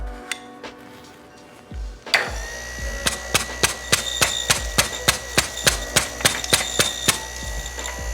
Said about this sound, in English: I can hear a bean rolling around inside there.